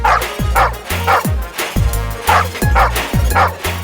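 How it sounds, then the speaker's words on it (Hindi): Loud, close dog barks in quick bursts, some high-pitched yips among them, repeating steadily with no talking. "भौंक क्या रहा है?"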